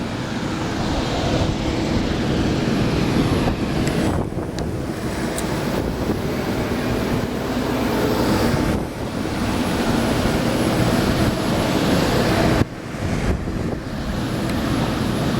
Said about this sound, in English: here's an up close of the engine